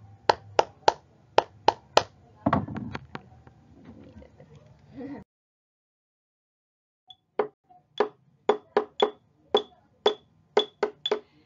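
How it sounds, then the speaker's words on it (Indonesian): Two hands clap in a slow, even rhythm, crisp separate claps near and clear, stopping for a spoken pause and a silent gap before a second run of about a dozen claps. "kalian bisa menggunakan tepukan kedua tangan"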